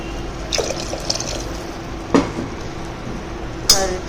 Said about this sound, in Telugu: ఇప్పుడు వాటర్ పోస్తున్నాము దీంట్లోకి